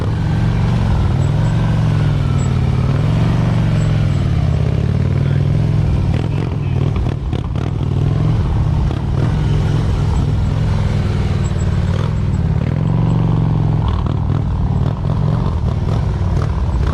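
Motorcycles ride tight, slow precision patterns at a motorcycle skills safety seminar, with a continuous loud, close engine rumble that swells and eases as throttle is worked.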